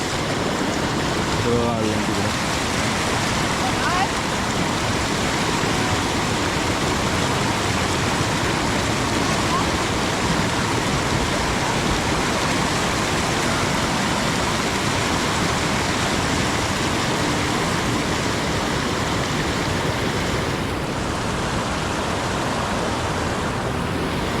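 Steady, full rushing of water where two rivers meet, loud and unbroken throughout with no pauses.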